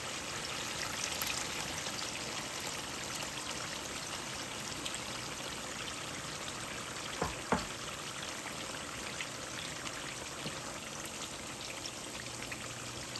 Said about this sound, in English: I've been frying it for 30 minutes